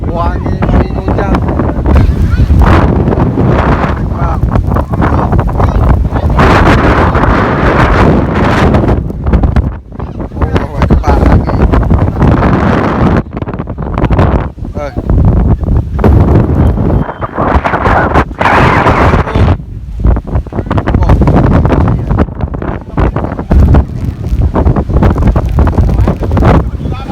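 A strong northwest wind and rain storm lashes Redang Island, roaring loudly and continuously with gusts buffeting the microphone while people talk throughout.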